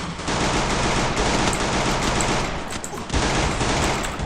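Rapid automatic gunfire from the video game Free Fire, a dense continuous burst of shots filling the clip, loud and close, with a brief dip near the end before firing resumes.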